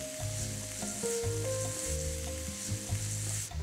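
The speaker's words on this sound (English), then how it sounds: "Garlic and onions. And then, I'm going to just saute this until it becomes nice and translucent." Garlic and onions sauteing in a pan, a quiet steady sizzle with a few light stirring sounds, close by and fairly faint.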